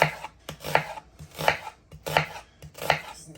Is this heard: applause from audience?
no